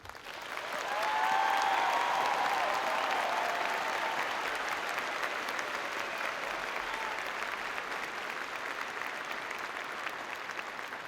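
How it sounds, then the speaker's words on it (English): A large audience at a university graduation ceremony applauds the graduating class, a broad, sustained wash of clapping that swells in the first second and holds steady, slowly easing toward the end. "round of applause."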